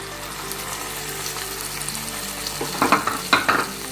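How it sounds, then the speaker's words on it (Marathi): Onion-tomato paste with ground masala sizzles in a pan for Punjabi dum aloo, a steady frying hiss broken near the end by a few louder scraping stirs of the spoon. "हे छान परतून घेऊया. याचा कलर चेंज होईपर्यंत आपल्याला परतायचे आहे"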